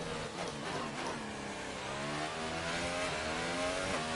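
Formula 1 race car engine from the F1 2018 racing game revving hard and steady at high pitch throughout, a continuous loud whine with shifting tones, no voices.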